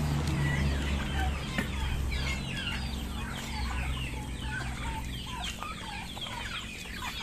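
Several chickens cluck and chatter nearby over a low steady hum, continuous overlapping calls with no talking.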